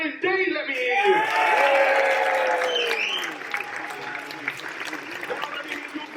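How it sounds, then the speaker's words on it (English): At a snooker venue in Milton Keynes, supporters of Ryan Day cheer and applaud loudly for several seconds, with whistles and shouts rising over sustained clapping before it thins out. "Make some noise if you're supporting Ryan Day."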